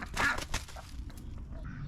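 A duck quacks and honks a few times close by in a quiet indoor or garage setting, the calls loud at first and then trailing off into low background noise.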